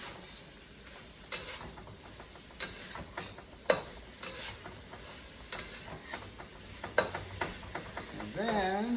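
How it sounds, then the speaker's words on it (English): Onions, garlic and ginger are stir-fried in a wok, a soft sizzle under repeated clacks and scrapes of a utensil stirring against the metal, fairly quiet and close, with a brief voice near the end. "now I'm going to add the onions and the garlic. Onions and the ginger back in. I'm going to mix those around."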